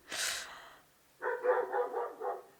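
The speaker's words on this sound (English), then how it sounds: "My dogs are barking. The neighbors' dogs are barking." A single sharp dog bark, then a quick run of several barks a moment later, fairly faint and somewhat distant, with no talking.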